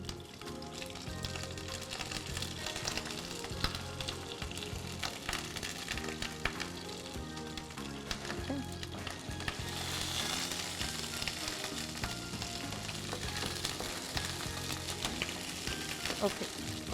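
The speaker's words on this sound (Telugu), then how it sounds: "ఇవన్నీ వేసి చక్కగా వేగుతున్నాయి" Dried red chillies, garlic cloves and curry leaves fry in hot oil with a steady, moderate sizzle that runs throughout under a rhythmic musical backing.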